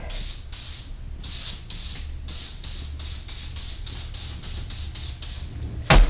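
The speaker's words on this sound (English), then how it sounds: "I'm just putting a little spray on just to hold the parchment paper down" Short hissing bursts of cooking spray onto a cookie tray repeat in quick succession, close and fairly loud, ending with a brief clatter.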